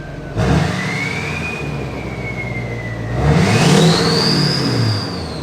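A truck engine revs twice through a loud exhaust stack, the pitch climbing, dipping, then surging higher before settling, close and throaty.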